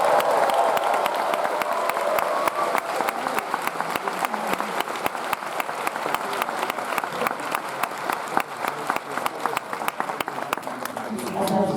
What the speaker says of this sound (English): We have another round of applause, please.